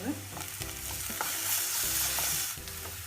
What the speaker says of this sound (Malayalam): ഞാനിവിടെ 1 സ്പൂണ് വെളുത്തുള്ളി, ഇഞ്ചി, പച്ചമുളക് ചതച്ചതാണ് ഇതിലേക്ക് ചേർക്കുന്നത്.